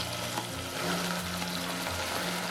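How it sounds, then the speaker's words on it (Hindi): Finely chopped onions frying in hot ghee with cumin seeds and a bay leaf, a steady close sizzle with soft stirring scrapes. "जैसे ही जीरा थिरकने लगे हम इसमें 3 मीडियम साइज ओनियन को बारीक काट कर डालेंगे।"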